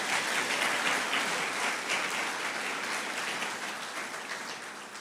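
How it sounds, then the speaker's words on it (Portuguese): A church congregation claps together in steady, dense applause that fills the room, loud and continuous for several seconds before slowly easing off, with no speech over it. "Vamos aplaudir ao Senhor Jesus pela paciência."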